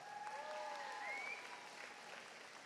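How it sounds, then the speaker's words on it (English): A quiet, distant round of applause for a graduating class rolls on evenly, with a few thin tonal sweeps drifting over the clapping early on. "let's give them a round of applause"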